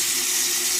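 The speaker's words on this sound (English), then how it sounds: "We're here at the Great Waterfall." Water pours at a waterfall in a constant, loud, close rushing hiss with no breaks and no voices.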